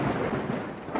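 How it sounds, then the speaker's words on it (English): Thunder from a lightning storm rolls as a low, continuous rumble, loud and sustained with no talking. "Lightning."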